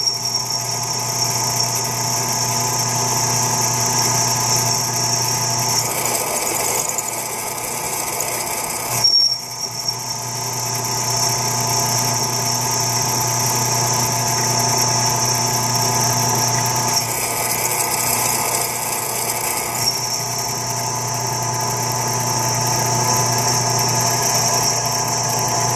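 King Canada KC-108N drill press boring a hole at low speed with lubrication: a continuous loud motor hum with a steady high-pitched squeal from the bit, briefly wavering partway through.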